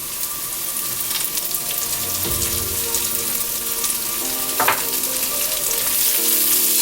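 Eggplant with garlic sauce and green onion stir-frying in a hot pan gives a steady, loud sizzle, with scraping and stirring clatter throughout and a sharper burst partway in as the onion goes in.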